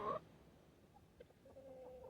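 Brown hens on a homestead give faint, scattered clucks, with a brief louder burst at the start and a few soft calls later over quiet background.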